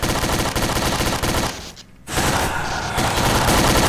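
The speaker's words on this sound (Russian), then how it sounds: "Да вы в меня стреляете." Dense, continuous automatic gunfire and overlapping shots in a Garry's Mod FNAF co-op game, loud and sustained, dipping briefly into a quieter lull before resuming in a heavy burst.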